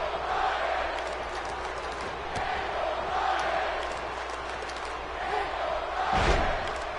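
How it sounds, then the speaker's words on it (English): Wrestling arena crowd in WWE 2K18 during a SmackDown match between Daniel Bryan and Bobby Roode. The crowd roars steadily, swelling now and then, with a heavy thud near the end. "Crowd getting behind Daniel Bryan here."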